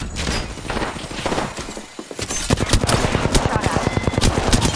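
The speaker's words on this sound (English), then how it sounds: "Stop, I'm getting shot at." Gunfire from the Apex Legends video game crackles in dense bursts, quieter and scattered at first, then a fast, loud run of rapid shots close by, with game effects and chatter around it.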